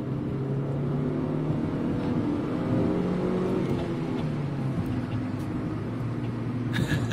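A car engine pulls hard in second gear with Marvel Mystery Oil run through its intake, the revs climbing steadily in a loud, continuous rising drone that fills the whole stretch, with no talking.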